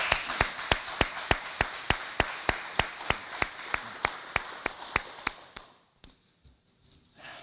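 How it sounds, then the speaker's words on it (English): Round of applause at a fire department promotional ceremony, heard as a slow, evenly spaced series of about twenty single sharp claps from one nearby person over a softer crowd patter, fading out near the end. "Let's give all of them a round of applause."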